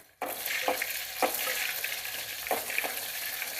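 Crushed garlic fries in a pan over medium heat with cumin, giving an even close sizzle that starts abruptly, with a few soft stirring knocks and no voices.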